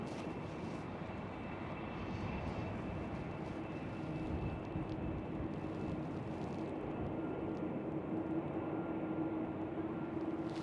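Airbus A321 airliner at Amsterdam Schiphol airport, a continuous broad jet engine roar with a steady whine, loud and sustained throughout on a windy day, no talking.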